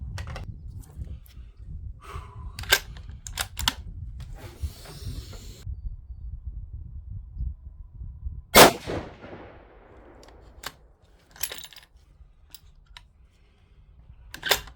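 A single loud rifle report comes from a Savage 110 chambered in 6.5 Creedmoor firing a 145-grain match load. It rings out sharply and decays in a quiet outdoor setting, preceded and followed by small handling clicks.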